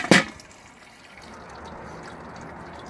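Hot sparge water at 78°C trickles over a bed of malted grain while brewing a Christmas beer, opening with a sharp splash followed by a soft, steady, quiet trickle close by.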